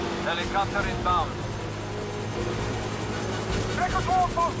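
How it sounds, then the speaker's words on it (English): A helicopter's rotor thrums as a steady low drone under brief shouted voices, in the video game James Bond 007: Blood Stone. "Helicopter inbound."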